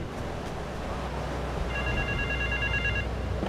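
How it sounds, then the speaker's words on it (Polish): A telephone rings in Grand Theft Auto 3, a faint electronic trill repeating over a steady rumble of city ambience and engine noise, with no talking. "O, słyszę telefon."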